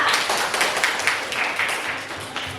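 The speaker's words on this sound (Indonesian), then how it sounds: "Tepuk tangan untuk Mira." A classroom of students claps for a pupil who answered a civics question, a loose, moderately loud patter of many hands that gradually thins out.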